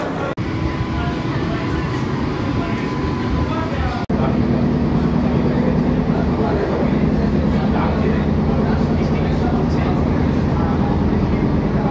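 The Sealdah to Ranaghat AC local train on its inaugural run gives a steady loud rumble from inside the carriage, with a continuous drone and a sharp jolt partway through, while people talk in the background.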